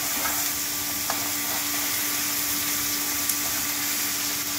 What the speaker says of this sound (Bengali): তাহলে টমেটো আর পেঁয়াজটা ভালো করে ফ্রাই হয়ে যাবে।